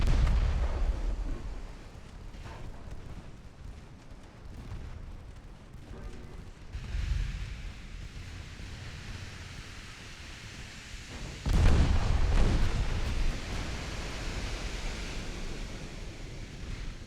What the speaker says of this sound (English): I want all the main guns to fire at the enemy battleship.